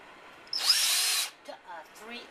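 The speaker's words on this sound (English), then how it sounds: "Next, I drill a pilot hole so it can accept my 2-inch screw." A power drill bores a pilot hole in a 2x4 piece of wood in one short burst of under a second, followed by quiet rustling and handling sounds.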